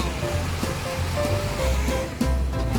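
Sea waves wash onto the beach at Cha-am in Thailand, a loud, continuous surging roar with a brief swell near the end.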